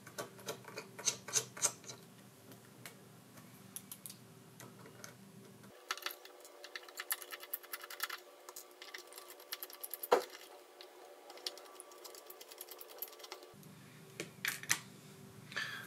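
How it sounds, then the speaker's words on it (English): Screws being removed from the bottom of an Oukitel WP6 rugged phone, faint scattered ticks and small clicks of a tiny screwdriver, close and quiet, with no talking. "now we have removed the screws"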